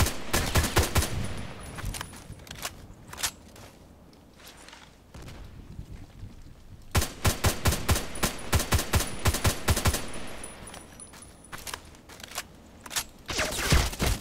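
Rapid bursts of gunfire from an HK417 rifle in a video game shooter, loud sharp cracks in clustered volleys with a quieter gap in the middle before dense firing resumes.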